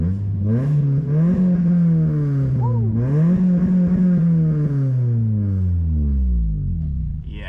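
A car fitted with a loud aftermarket ricer exhaust revs close by, its raspy droning note rising and falling through several throttle blips before settling, with a faint voice briefly under it.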